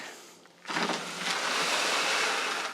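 A mixture of water and bentonite clay poured back from a container, starting after a brief quiet moment as a steady, fairly loud rushing splash that continues to the end without talking.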